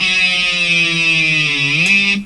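A buzzy, distorted electric guitar note sustains, wavers, and slides down in pitch before jumping back up and cutting off.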